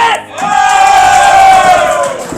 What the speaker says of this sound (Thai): อันนี้ก็ กองเชียร์ราชนาวีครับ เดินทางมาจากสัตหีบไปนะครับ